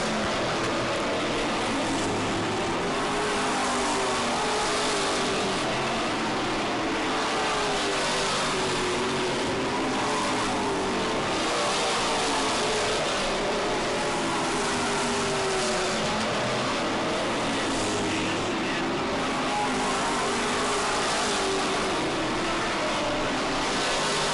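Race cars roar around an oval track at Lee, New England, engines droning and revving continuously in the middle distance with a steady wash of crowd and track ambience.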